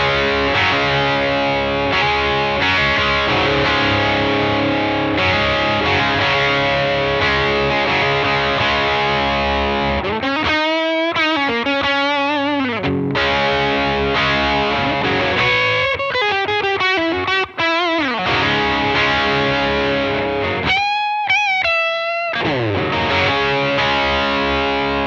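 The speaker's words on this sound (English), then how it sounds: "Rolling off some of that tone will definitely darken it up a little bit" Electric guitar through a Seymour Duncan Saturday Night Special bridge pickup with the tone knob rolled off, playing sustained distorted chords and single-note bends, darker and smoother, loud and alone throughout.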